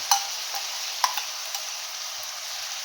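Ground garlic and ginger paste sizzles softly in a pan with onion paste, a steady quiet hiss broken by a few light clicks of stirring, with no talking.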